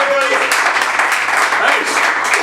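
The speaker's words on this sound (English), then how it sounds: "Give him a big round of applause, everybody!" Audience applause at an improv comedy show, a loud dense burst of many hands clapping with cheering voices mixed in, holding steady through the short stretch.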